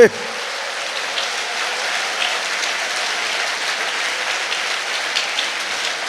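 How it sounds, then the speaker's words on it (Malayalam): A church congregation claps together in sustained, dense applause that fills the room at an even, steady loudness from start to finish. "ഈ കൈയടി പോരാ ശക്തമായിട്ട് കൈയടിച്ചേ"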